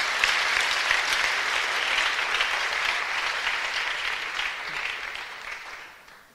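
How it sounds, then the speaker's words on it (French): A church audience at a children's ministers' gathering applauds for a winner, with steady, dense clapping that holds for several seconds and then fades out. "Applaudissez pour elle."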